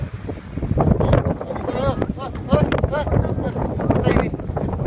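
Wind roars and buffets the microphone with a steady low rumble at the Grand Canyon while people talk over it.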